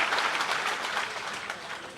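Crowd applause at a Bahujan political rally in Nagina, dense and steady clapping that fills the whole stretch with no voices over it.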